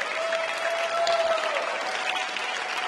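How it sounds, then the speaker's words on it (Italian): Soft, distant applause from an audience at a CISL conference on workplace safety, a thin continuous patter of hands with a faint sustained tone running underneath. "Un altro applauso."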